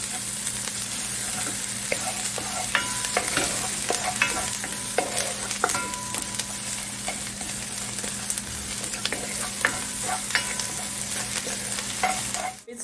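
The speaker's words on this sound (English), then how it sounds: "Add the thyme and just leave the stove on low so that the garlic don't burn." Garlic and thyme fry gently in a pot on low heat, a constant close sizzle with soft crackles and a spoon occasionally scraping and clinking against the pot, with no talking.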